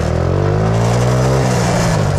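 A car sweeps past on a road close by, its engine tone rising and then dropping as it passes, loud and alone without any voices.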